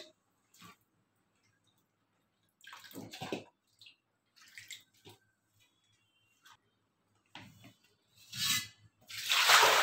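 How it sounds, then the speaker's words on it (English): Water splashing and sloshing in a basin as cauliflower is washed, in intermittent bursts with quieter gaps between, growing into louder running water near the end. "you have to wash the cauliflower well"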